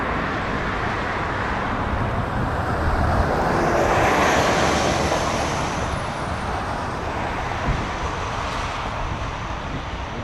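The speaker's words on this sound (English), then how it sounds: "We do have a Dreamliner." Boeing 787 Dreamliner jet at Toronto Pearson airport, a broad steady engine roar with a thin whine sliding across it, swelling gently in the middle and staying loud throughout.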